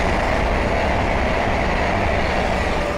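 A pair of Class 221 Super Voyager diesel trains, 221103 leading and 221142 at the rear, on the West Coast Main Line at Linslade bound from Birmingham New Street to London Euston, roar past close by in a steady, loud, continuous rush.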